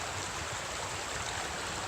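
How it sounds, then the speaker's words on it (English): Running stream water in a hemlock and pine swamp, a steady soft rushing wash with no breaks, faint and close by. "Swamp, and now pretty decent running water behind us."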